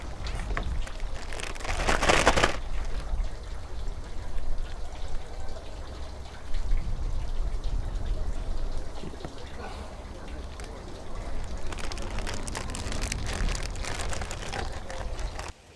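Rain pattering steadily on a boat out at sea during a stormy mutton snapper fishing trip, a continuous close wash of drops with brief louder bursts.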